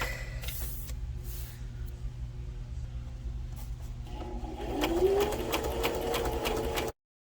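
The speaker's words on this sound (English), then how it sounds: "So I'm gonna do some stitching on these and then I will be right back." A sewing machine stitches through paper with a steady mechanical whir and rapid needle clatter, close and fairly quiet, rising in pitch as it speeds up before stopping abruptly.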